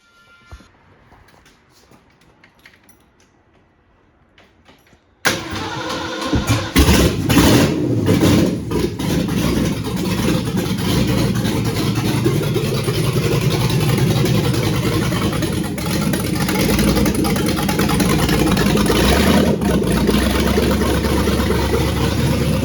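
A newly installed car engine with a full exhaust fires up after about five seconds of near silence, then runs loud and steady with a deep, rumbling idle that stays up close throughout.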